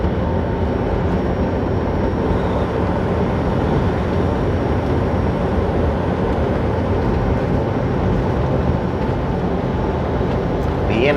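Union Pacific freight train rolling past at night near a big rig on a desert highway between New Mexico and Arizona, a steady broadband rumble that stays loud and continuous throughout, with a voice talking faintly over it.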